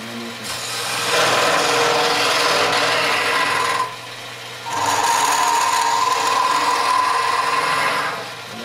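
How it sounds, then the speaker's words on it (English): A flat scraping tool hollows end grain wood on a spinning lathe, producing a loud, steady rasping hiss in two long passes separated by a brief pause, with the lathe's motor running underneath. "And there you see the scraping versus the cutting."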